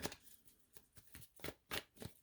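Tarot cards being shuffled by hand, a series of quick riffling bursts in a steady rhythm, close and fairly soft, with no talking.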